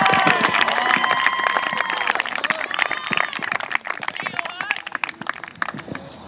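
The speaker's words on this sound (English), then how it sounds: "Let's honor Johan with a big round of applause" An audience at a school soccer senior salute breaks into dense applause for a student, loud at first and thinning toward the end, with voices mixed in.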